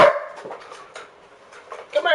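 A dog gives a few short, yippy barks and whimpers close by, breaking up a quick stretch of noisy background.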